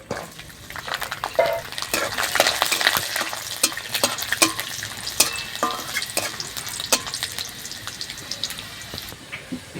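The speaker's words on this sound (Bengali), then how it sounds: "এবার দিয়ে দিচ্ছি রসুন।" Garlic sizzles in hot oil with dried chilli and black cumin, a steady close crackle of frying with repeated scrapes and clicks of a stirring spoon against the pan throughout.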